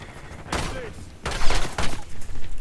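Rapid automatic gunfire in Call of Duty Black Ops 6 on the Nuketown map, two loud close bursts in quick succession, with a voice talking over it.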